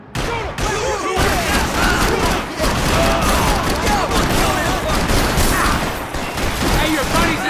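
Sustained gunfire from a Max Payne 3 shootout, dense overlapping shots and bursts filling the whole stretch at high loudness, with shouting voices mixed in underneath.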